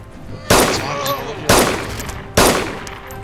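Three loud, sharp gunshots crack about a second apart during a DayZ Standalone firefight near Myshkino, with a sniper firing. Each blast is sudden and close, with a brief ringing tail before the next.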